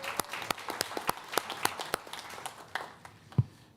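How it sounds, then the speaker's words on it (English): A round of applause for a school music program at a public schools event, with distinct individual claps that start fairly strong and then taper off, ending in a single louder clap. "So let's give them another round of applause."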